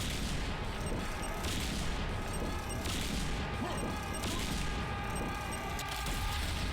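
Weapons fire in the Serious Sam shooter game: dense, continuous volleys of shots and explosive booms pound without pause, loud and close, forming a thick wall of gunfire.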